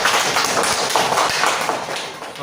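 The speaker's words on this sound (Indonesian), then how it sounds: "beri tepuk tangan dulu" Audience applause at an Indonesian school teachers' event, a brief burst of many hands clapping together, steady and fairly loud throughout.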